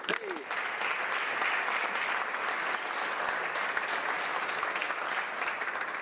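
Members fill the House of Commons chamber with sustained applause, a dense, even wash of many hands clapping that carries on without a break from start to finish.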